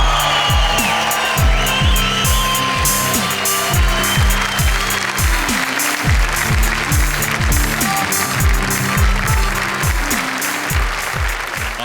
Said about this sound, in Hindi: आपकी तालियां सुनकर